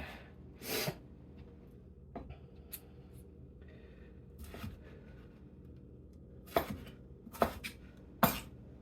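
A kitchen knife slicing and coring tomatoes on a cutting board for gazpacho, with several sharp, isolated cuts and taps spaced irregularly over quiet room tone.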